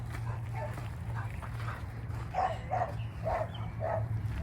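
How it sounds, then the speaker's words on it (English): Dogs at a training facility for reactive dogs bark in the background, a run of repeated mid-distance barks over a steady low hum, some overlapping in quick bursts. "there are dogs barking in the background"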